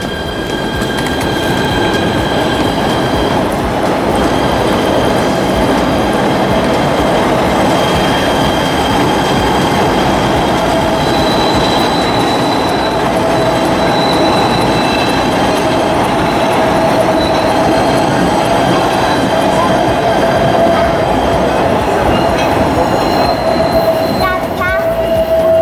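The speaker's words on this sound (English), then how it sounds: "Oh, I want to catch that train leaving." A PATH subway train pulls out of the World Trade Center station with a loud, continuous rumble and rattle of cars, plus high wheel squeals and tonal whines rising over the steady roar for about twenty-five seconds.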